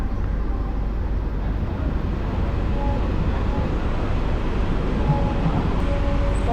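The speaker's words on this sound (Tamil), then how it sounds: "இப்போ ட்ரெயின் உள்ளே என்ட்ரு ஆகுறது தாம்பரம் ரயில்வே ஸ்டேஷன்." An AC EMU electric train pulls into Tambaram railway station, a steady loud rumble of wheels and motors with faint tonal whine, continuous throughout with no talk.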